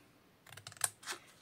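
Scissors cut through a paper pouch for a Halloween craft, giving a handful of crisp, close snips and rustles in quick succession after a brief quiet start.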